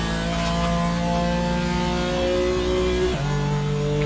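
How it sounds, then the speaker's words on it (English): On-board race car engine revving loudly and steadily at high pitch during a circuit lap, with a brief drop in revs near the end before climbing again. "Sounded a little bit quiet there, but the revs come back on again."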